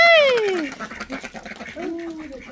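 Domestic ducks kept beside chickens in a village yard give a few loud, nasal quacks at close range, mixed with a voice that sounds like calls to the birds.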